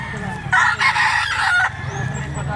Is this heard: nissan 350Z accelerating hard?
no